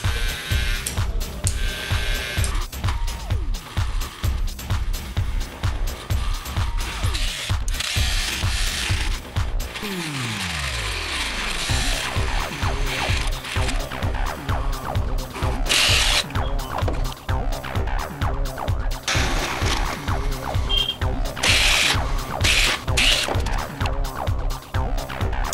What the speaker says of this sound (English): Now drilling machine is ready to use.